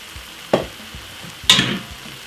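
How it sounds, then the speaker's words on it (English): Handfuls of rice tipped into a hot pot for Chinese stir-fried rice, two brief sizzling rushes about a second apart, close and fairly loud over a low background hiss. "Next thing, we're gonna put some rice. Roughly 3 handfuls of rice."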